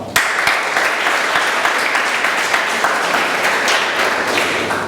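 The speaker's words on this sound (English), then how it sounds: "I like to applaud for all role players now." A room of Toastmasters club members in Bombay applauds the meeting's role players, a loud, even wash of clapping that starts abruptly and holds steady for several seconds without speech.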